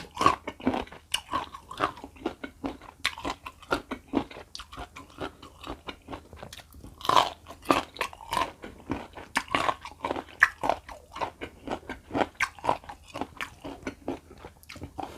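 Crunchy salt-pickled mango, made to an old-style recipe, bitten and chewed up close: a steady series of sharp, crisp crunches and wet chewing in a quiet room, with no talking.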